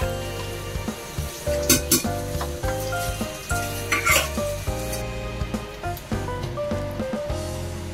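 Food sizzles and fries in a pan while a utensil stirs it with repeated scraping and clatter against the pan, close and steady, over a background of music-like tonal sound.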